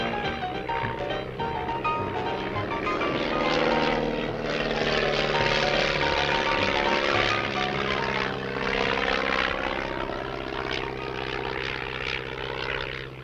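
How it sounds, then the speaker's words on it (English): A propeller airplane, used as a working tool in desert oil exploration, drones steadily and loudly throughout, its engine tone rising and falling slightly as it passes, with no speech. "The plane was extremely important to have as a working tool"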